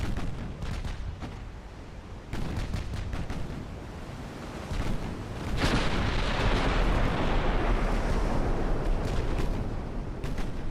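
Heavy naval gunfire in a warship video game, shells striking an enemy ship: a run of booming shots and impacts, then a loud sustained roar of explosion and rushing water that fills the second half.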